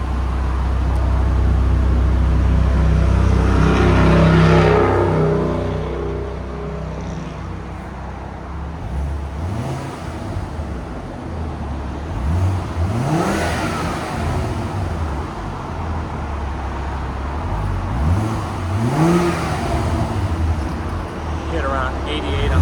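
A 2011 Volvo C30 2.5 L turbo with a Borla exhaust and crossflow muffler gives deep, loud revs: a long throaty hold, then two sharp rising bursts that drop back to a rumbling idle.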